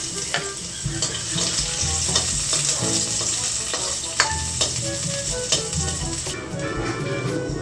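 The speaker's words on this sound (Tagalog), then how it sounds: "Ilalagay ko na po itong bawang." Garlic and chili sizzle steadily in a hot frying pan, with the light tap and scrape of stirring cutting through at close range the whole way.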